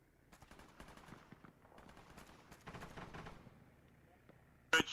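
Gunfire from an ARMA 3 military firefight, a series of shots and bursts popping at moderate distance over several seconds, ending in one loud close report, with a faint voice in the background.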